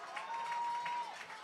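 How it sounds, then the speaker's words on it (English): Crowd at a high school football game between Canby and Wilsonville, a steady, fairly distant mix of cheering and clapping that swells and ebbs across the moment, with a thin steady tone running through it. "You could hear the crowd reacting to the play, and that's the initial call."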